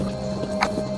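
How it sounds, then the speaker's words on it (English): Horse hooves walking in Elder Scrolls Online, a couple of soft clip-clop steps within a single second over a steady game background hum. "Ah, my horse can also walk,"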